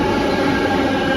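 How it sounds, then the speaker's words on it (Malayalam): A driverless metro train on Bangalore's Yellow Line pulls into a station, a loud, steady rumble of rolling cars that fills the short moment. "ഇതാണ് ഇന്ത്യയിലെ ഫസ്റ്റ് ഡ്രൈവർലെസ് മെട്രോ."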